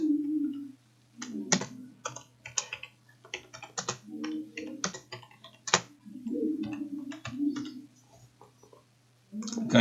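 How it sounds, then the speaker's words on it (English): Someone types on a computer keyboard while making a logo design. Crisp, close keystrokes come in irregular bursts with brief gaps, over a faint steady low hum. "Now the next thing to do is to type in"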